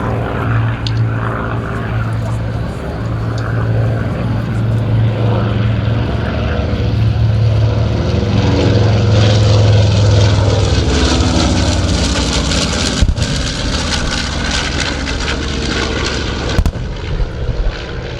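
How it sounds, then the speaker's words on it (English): A WWII B-25 Mitchell bomber, Rosie's Reply, flies at an air show with a loud, steady propeller and engine drone that swells and holds throughout, with sharp cracks like pyrotechnic blasts near the end and a crowd voice faintly under it. "Their aircraft carries the name of Rosie's Reply."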